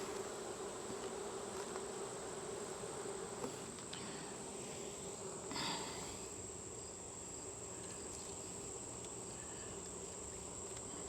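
Honey bees drone steadily around hive frames while honey is being pulled, a dense continuous buzz close by, with occasional brief knocks of handling.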